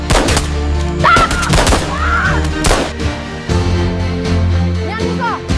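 Gunfire from a fighting scene in an Aceh action film crackles in repeated sharp bursts over a loud, dense soundtrack, with voices shouting throughout.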